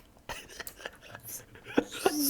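A baby girl sneezes in a few small, quick bursts, close and fairly faint, amid light rustling and a soft vocal sound at the end.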